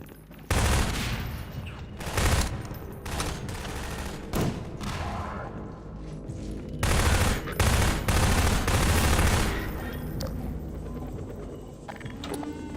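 Rapid bursts of automatic gunfire and loud shots from the Half-Life 2 video game, coming in dense, repeated volleys with brief lulls between them, up close and dominant throughout.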